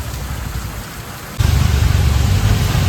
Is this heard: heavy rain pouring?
yes